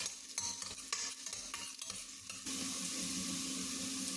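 Garlic sautés in a pan, with clattery stirring and scraping for the first half, then a louder, steady hiss of frying that continues to the end, with no talking.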